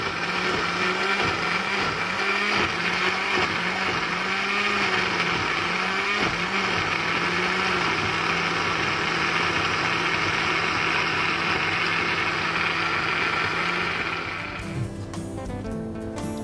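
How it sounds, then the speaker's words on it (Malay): A blender motor whirs steadily and loudly grinding lemongrass and spices for chicken rendang, its pitch wavering slightly as contents churn, then cuts off near the end. "Okey, jom kita blender masuk dalam ni."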